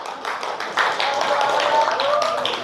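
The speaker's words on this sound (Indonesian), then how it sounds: "Kasih tepuk tangan buat Laila," Students in a classroom clap for classmates who have just finished presenting, a short burst of scattered hands under murmuring voices.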